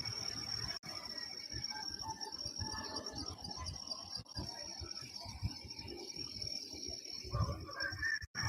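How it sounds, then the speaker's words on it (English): Crickets chirp continuously outdoors at night in New Zealand, a thin, steady high-pitched trill over a dense background of soft rustling and distant ambience. "Those annoying crickets, or whatever you call them."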